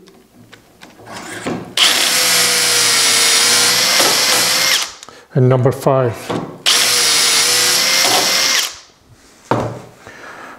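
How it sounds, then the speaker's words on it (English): A power drill whines loudly through wood in two long bursts while doweling with a Dowelmax jig, with ratcheting and handling noises between them and a brief spoken line near the end. "Drill through number 2."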